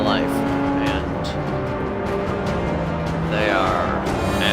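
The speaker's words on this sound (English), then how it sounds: "Oh, grinding gears." Gears grinding on a Datsun 510 in the Forza 6 racing game, with the engine note rising and falling, tires squealing and other race cars passing, while someone talks over the gameplay.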